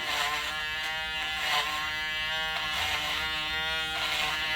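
An Andis electric hair clipper running steadily while cutting hair with a bevelling motion, a close continuous buzz with slight swells in pitch and loudness, no talk.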